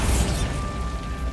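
A Bombarda spell effect: a blast-like burst opening with a low boom and bright crackling top, then settling into a sustained rumbling tail, fairly loud and alone.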